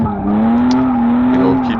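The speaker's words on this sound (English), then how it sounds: "When I enter into the drift and the car starts going sideways, you don't want to fight the steering wheel." Car drifting sideways on a track, with a sustained, wavering tire squeal over steady engine noise, loud and close throughout.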